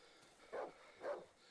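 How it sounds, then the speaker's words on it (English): Dogs bark in the survival horror game Darkwood, two muffled barks about half a second apart, moderately distant over a quiet, low background. "Okay, and the dogs are back."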